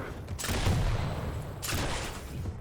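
Weapons fire in an arena shooter match, with a railgun shot and other fire: two dense, loud bursts of blasts, one near the start and another around the middle, over a constant roar of game sound.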